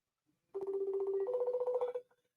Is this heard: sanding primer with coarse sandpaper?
no